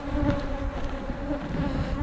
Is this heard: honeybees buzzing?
yes